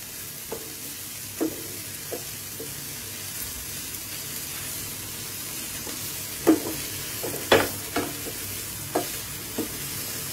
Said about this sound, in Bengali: ফুলকপিটা 3-4 মিনিট একটুখানি হালকাভাবে লালচে করে ভেজে নেব পেঁয়াজের সাথে।